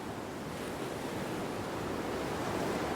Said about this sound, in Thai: เหมือนว่า ลมจะพัดแรงขึ้นเรื่อยๆ เลยนะเนี่ย